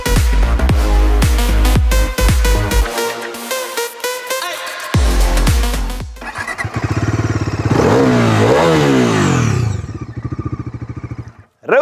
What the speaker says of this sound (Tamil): ரெவ் பண்ணும்போது எக்ஸாஸ்ட்ல ஒரு பீட் இருக்கு.